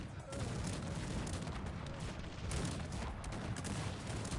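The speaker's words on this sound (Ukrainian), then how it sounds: "Постійно настрілює гарматами" Cannon fire in the strategy game Cossacks 3, a dense, continuous barrage of booming shots and gunfire rumbling together at a fairly low level.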